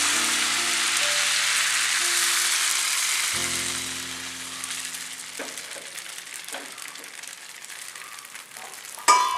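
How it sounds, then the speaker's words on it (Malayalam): Raw-rice appam batter hits a hot, swirled appam pan and sizzles in a steady, close hiss that slowly thins out, ending in a brief metallic clatter. "മാവിങ്ങനെ ഒഴിച്ചിട്ട് ചട്ടി ഒന്ന് ചുറ്റിച്ചു കൊടുക്കുക."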